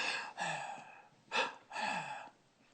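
A woman breathes heavily while concentrating on sewing: three drawn-out, audible breaths, near and fairly quiet, with a short pause between them and no talking.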